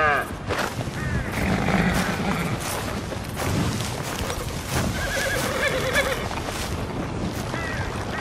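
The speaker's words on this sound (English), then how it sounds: "Go to the corral and check out the horses." In Red Dead Redemption 2, horses at a ranch corral whinny and neigh several times over scattered hoof clip-clops and light wind.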